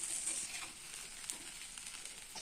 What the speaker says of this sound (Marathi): तर भाजत आहे बघा धपाटी